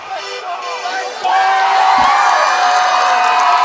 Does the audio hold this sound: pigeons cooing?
no